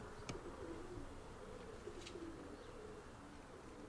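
A pigeon coos faintly and softly in a low, repeated rolling call outdoors, distant under a steady background hiss with a couple of brief sharp clicks, and no talking.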